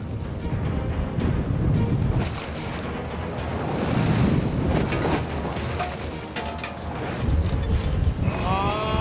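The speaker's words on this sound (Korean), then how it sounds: "몰아치는 거센 파도가 홍어잡이 배를 위협한다." Rough sea waves surge and crash against a skate-fishing boat off Heuksando in a continuous roar, with gusting wind buffeting the microphone and a few high squeaks near the end.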